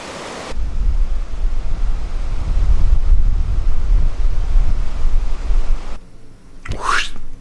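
Waves wash along the shore of the River Ems, a steady loud rush of surf mixed with heavy wind buffeting close to the microphone, ending in a brief quieter moment and a rising whoosh.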